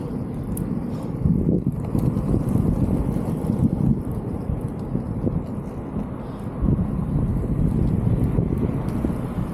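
Strong gusty wind buffeting the microphone while rollerblading through city streets on a cold night, loud rumbling bursts that swell and ease, with faint skate rolling beneath and no talking.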